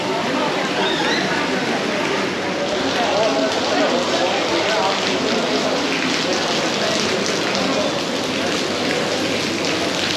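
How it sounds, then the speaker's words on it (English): Dense, steady hiss of heavy rain pouring continuously during a thunderstorm in Dubai, loud and close, with faint voices mixed underneath. "I've never seen any rain like this"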